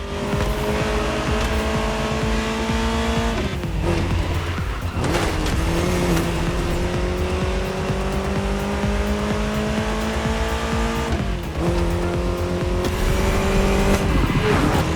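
Ferrari F40 and F50 supercar engines in the racing video game The Crew Motorfest roar loudly and continuously, revving up through gears with brief dips at shifts and occasional tire squeal, no voices.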